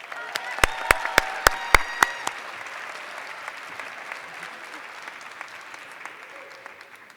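An audience at a computer science education event applauding an award winner: a few loud, sharp individual claps up front, then a sustained wash of crowd applause that slowly fades.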